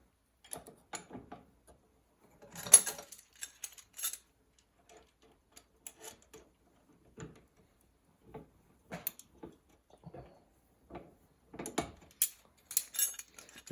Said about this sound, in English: turn the handle of your vise till it clears